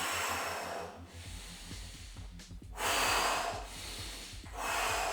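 Deep, forceful breathing during a yoga breathing exercise, close and clear, with long rushing inhales and exhales repeating in a steady rhythm.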